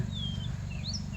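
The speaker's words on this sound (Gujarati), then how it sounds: "અત્યારે જો પક્ષીઓ પણ મસ્ત અવાજ કરી રહ્યા છે" Birds chirping in a coconut garden, a few thin high calls and short tweets scattered over a steady low rumble of background noise, faint and somewhat distant.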